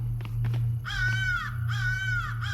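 Two loud, harsh crow caws from a raven in the multiplayer horror game Secret Neighbor, each a drawn-out rasping call with a short gap between, over a steady low game hum and a few soft footsteps before them.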